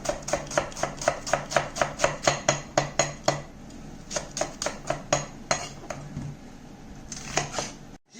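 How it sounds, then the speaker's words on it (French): Onions being finely sliced with a knife on a cutting board, a brisk run of evenly spaced chops, a brief pause, then more bursts of cutting. Close and crisp, with no talking. "je vais les couper en deux et les émincer"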